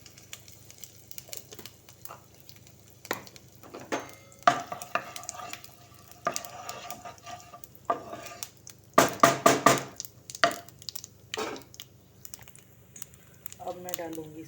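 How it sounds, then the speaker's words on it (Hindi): Cumin seeds and asafoetida sizzle in hot oil in a home kitchen pan, with bursts of stirring scrapes and crackles growing louder midway, close by and under occasional background sounds. "अब इसमें मैं डालती हूँ ज़ीरा एंड हींग। तो ये डाला इसमें थोड़ा सा जीरा,"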